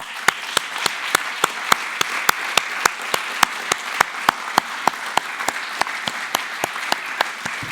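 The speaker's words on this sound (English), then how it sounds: "So give the team who was responsible for that a great applause." Audience at a central bank conference claps in a steady, evenly spaced rhythm, sharp distinct beats repeating about three times a second without pause, fairly close and with no talk over it.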